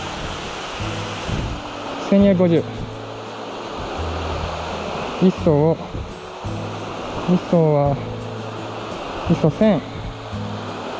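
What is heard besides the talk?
Marugami Falls waterfall in Saitama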